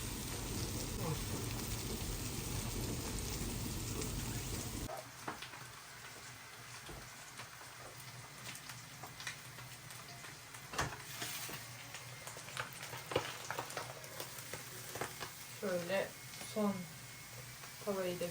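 Food frying in a second pan, likely fish, as part of a home iftar meal: a steady sizzle and crackle that is louder at first, then softer, with a person talking over it throughout.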